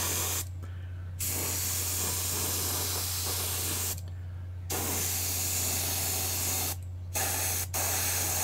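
Spray paint hisses out in long continuous bursts, close and loud, broken by a few short pauses, over a steady low hum, with no talk.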